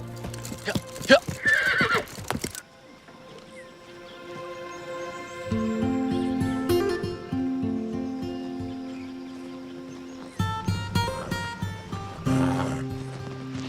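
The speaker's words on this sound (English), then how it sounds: "Run these horses long enough." Horses whinny loudly and hooves clip-clop in a Western cowboy setting, with bursts of neighing near the start and end over steady galloping hoofbeats and some indistinct voices.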